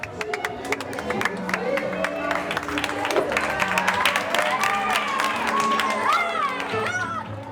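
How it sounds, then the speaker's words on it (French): A thunder of applause and cheering from a crowd welcoming newlyweds into a rented hall at a large Gypsy wedding, with lively clapping, excited shouts and chatter throughout. "c'est sous un tonnerre d'applaudissements que le jeune couple est accueilli"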